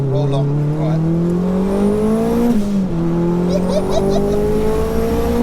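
A 630bhp Mitsubishi Evo 2 accelerates hard from inside the cabin, engine note climbing steadily, dropping briefly at a gear change, then rising again, loud and continuous.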